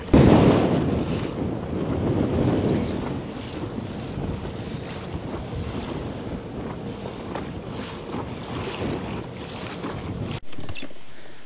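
Strong wind gusting across an open lake at Babīte during a fishing tournament, a loud rushing roar buffeting the microphone that is strongest at the start, eases into a steady blow and cuts off abruptly near the end.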